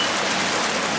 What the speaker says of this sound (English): messy river they've got here